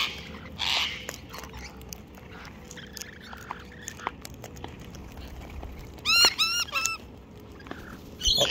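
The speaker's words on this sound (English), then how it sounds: "Lots of munches." Cockatoos munch and crunch on seeds among scattered buckets, soft irregular biting and cracking sounds close up, broken by a couple of sharp squawks.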